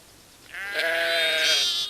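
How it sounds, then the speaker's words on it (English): Sheep bleat in a field at lambing time, a single loud, sustained wavering call of about a second and a half rising out of quiet open-air background. "For the sheep in the field, lambing time has already arrived."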